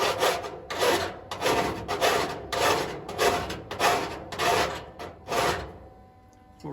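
A 1941 Willys body panel's edge, cut off with a thin cutoff wheel, is cleaned up before welding. About eight steady rhythmic rasping strokes follow close up, each a broad scraping burst, ending with a quieter tail.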